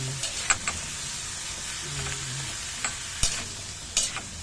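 A pan of pakbet vegetable stew with longganisa is stirred over a low, constant sizzle. Scattered spoon scrapes and clinks ring out, a few of them sharp and loud.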